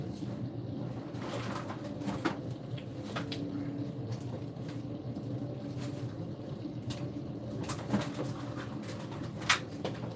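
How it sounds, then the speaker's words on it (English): Pigeons or doves coo at a moderate distance over a steady low background rumble, giving soft repeated calls with a couple of brighter chirps near the end and no talking. "Also, here some beautiful birds."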